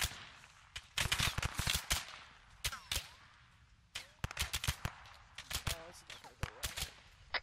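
Rapid gunfire in the military simulation game Arma 3, with sharp single shots and short bursts cracking irregularly throughout, some close and loud, others quieter, with brief radio-style chatter in the gaps.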